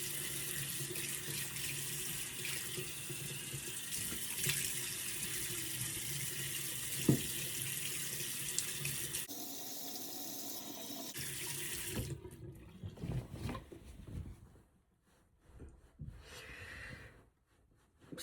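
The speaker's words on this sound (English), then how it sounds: "So first start off just with washing my face in the morning" Tap water runs steadily into a bathroom sink during a morning face wash, a close, constant rush for about nine seconds before giving way to quieter, intermittent splashing and drips.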